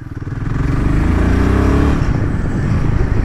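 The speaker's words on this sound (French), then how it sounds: "Mais la moto est plutôt bien, elle est dynamique." Royal Enfield Himalayan 450 motorcycle engine running under way, a close, steady throaty drone that rises slightly then holds, with no talk over it.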